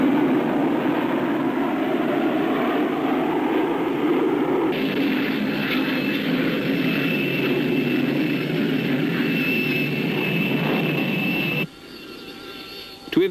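A test aircraft from 1971 flight-testing roars loudly and steadily, a continuous broadband engine rumble with a rising whine partway through, cutting off abruptly near the end.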